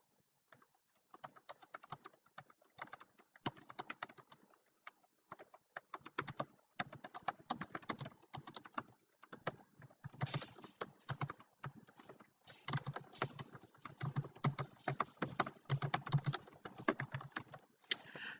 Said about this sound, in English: I'll finish typing this out.